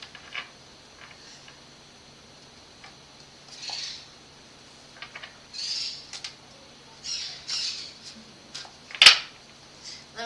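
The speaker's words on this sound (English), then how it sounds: "Please excuse the birds in the background." Pet birds in a home give scattered squawks and chirps at low level, with one sharp, loud call near the end, over a quiet room.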